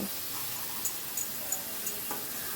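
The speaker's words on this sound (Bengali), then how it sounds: "আবারও সব কিছু ভালো করে মিশিয়ে নিচ্ছি।" Tomato masala stirred in a frying pan, giving a faint, steady sizzle with a few soft scraping clicks from the spatula, no voices.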